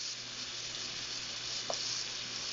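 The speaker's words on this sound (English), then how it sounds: "on a low fire, and add the shrimps in" Shrimp frying over a low fire in a pan give off a soft, even sizzle with one brief scrape of stirring partway through.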